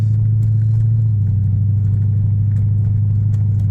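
A Lexus LS400 car in regular driving gives a steady, loud low engine hum and road rumble heard from inside the cabin, continuous and even throughout, with no talking.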